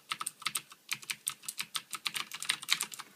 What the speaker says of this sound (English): This is the like the cherry blue switches, by the way. They're quite noisy